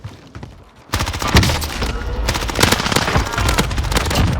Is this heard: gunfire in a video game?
yes